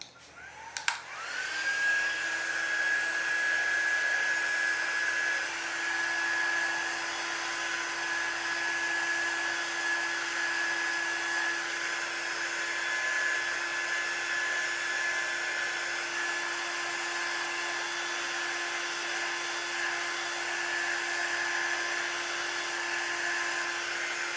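Steady, loud whir of a hair dryer blowing on handmade paper lunch bag gingerbread houses, starting abruptly after a click and running unbroken with a constant whine.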